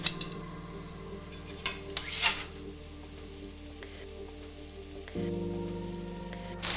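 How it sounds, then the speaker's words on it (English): Potatoes get stirred into bacon and onions in a pot for corn chowder. Soft sizzling runs underneath, broken by a few sharp scrapes and clinks of a utensil against the pot. Partway through, the frying grows louder and steadier. "I'm going to mix these potatoes with the bacon and the onions"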